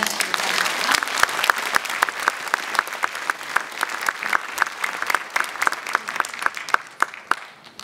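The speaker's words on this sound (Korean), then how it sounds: "큰 박수로 맞아주시겠습니다" Applause from an audience welcoming a speaker at a pilgrimage forum, with dense clapping and crisp individual claps standing out as it continues steadily for several seconds, then begins to thin toward the end.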